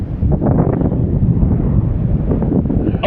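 Steady wind roars across the microphone during a paragliding flight, a loud continuous low rumble of buffeting air that fills the whole moment without any speech.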